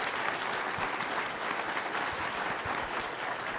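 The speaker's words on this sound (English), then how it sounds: "please give them a round of applause" An audience at an economics breakfast panel event claps steadily in dense, sustained applause for the panelists, with no talking over it.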